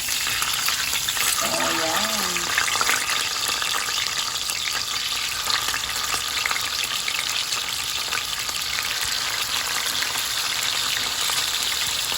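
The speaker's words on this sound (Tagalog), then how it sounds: "Pinapainit ko yung ating mantika." Cooking oil heating in a pan before frying galunggong fish, a loud, steady hissing crackle close by that runs without pause, with a brief faint voice early on.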